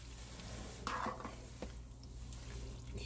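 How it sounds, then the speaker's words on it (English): Breadcrumbs being stirred into a mac and cheese casserole, with quiet scraping and soft shuffling strokes of a spoon through the thick mixture, close by and low in level. "just make sure you get those breadcrumbs stirred in really"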